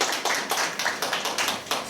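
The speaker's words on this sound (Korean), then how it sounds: "예, 박수로 맞이해 주시기 바랍니다." Audience applause welcomes guests arriving at a Korean conservative YouTuber talk festival on the economy, a steady wash of many hands clapping with no talk over it.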